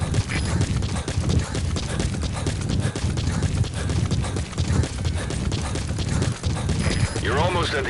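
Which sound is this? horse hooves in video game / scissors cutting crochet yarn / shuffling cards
horse hooves in video game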